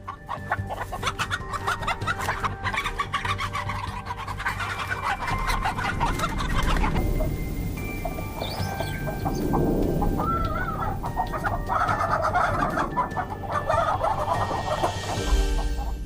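A flock of chickens cluck and chatter continuously, with occasional louder squawks, over a constant low background hum.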